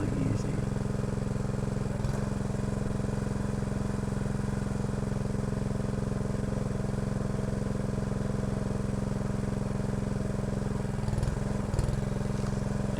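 A hydraulic log splitter drones at a steady, close engine hum while splitting firewood, with no distinct cracks of wood breaking and talk over it throughout.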